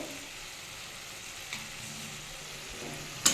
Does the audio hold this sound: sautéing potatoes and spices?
yes